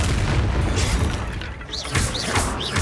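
A Confringo fire spell blasting in Hogwarts Legacy, a loud booming impact with crashing debris and rumble, followed by short whooshing spell bursts in quick succession.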